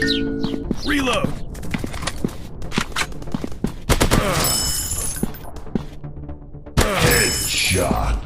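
Rapid gunfire bursts in a shooting video game, loud and close with short pauses between volleys and a voice calling out over the shots.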